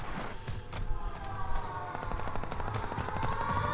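Rapid automatic gunfire and scattered shots in a Warzone Resurgence match, a dense continuous barrage of bursts with no break across the whole stretch.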